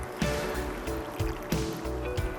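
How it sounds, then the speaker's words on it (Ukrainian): Drinking water poured over squeezed, sliced onions in a bowl, a steady close trickling and splashing stream with small irregular bumps, heard alone. "І залити звичайною питною водою"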